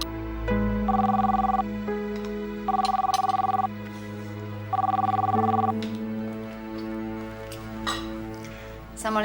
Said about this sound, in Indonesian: Telepon, Pak. Dari Winda.